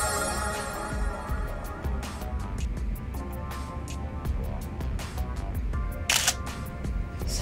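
Camera shutter clicks in Yakuza Kiwami 2 during a game photo session. Brief crisp snaps sit over steady background music, with a brighter, louder click near the end.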